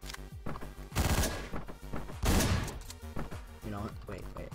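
Two heavy, booming double-barrel shotgun blasts in a video game, about a second apart, loud and close, amid busy game noise and faint voices.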